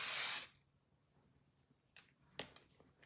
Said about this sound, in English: I'm gonna spray in a little bit of Twa Chic 3-way hairspray by Launch.